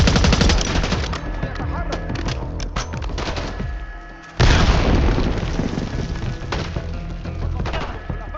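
A grenade explosion in Call of Duty Black Ops 6 amid heavy gunfire, a sharp loud boom cutting through bursts of automatic fire, followed by continued shooting and rumbling.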